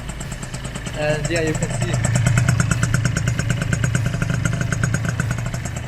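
A rebuilt Yamaha Aerox 70cc scooter engine idles steadily with a rapid, even putter, close and continuous, while someone talks over it.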